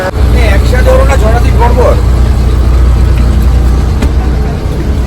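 A Volvo bus on the Kolkata to Mandarmani route idles with a deep, steady engine rumble, while voices murmur over it near the start before the hum continues alone.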